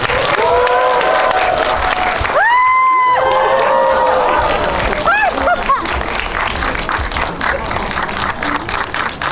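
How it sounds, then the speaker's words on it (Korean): A packed cinema audience at a Megabox Seongsu MX hall stage greeting breaks into loud, dense applause, with shrill cheers and shouts rising over the clapping throughout. "큰 박수와 함성 한번 부탁드릴게요"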